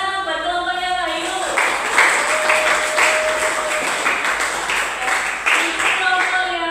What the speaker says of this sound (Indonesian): Tepuk tangan buat kelompoknya Wahyu.